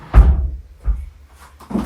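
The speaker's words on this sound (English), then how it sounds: "we have the glass doors and they just open like this" Glass doors on a standard-sized bathtub thump and clunk as they swing open, with two solid knocks followed by lighter clicks and rattles.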